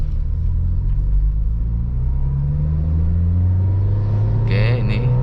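A manual car pulls away in first gear, its engine note climbing steadily and loudly from close inside the cabin, with a brief higher burst near the end.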